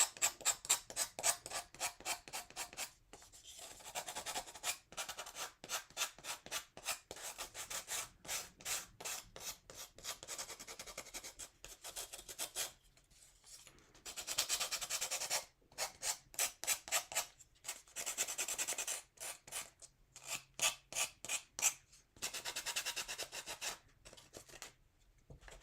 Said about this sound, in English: I'm going to just sand this down,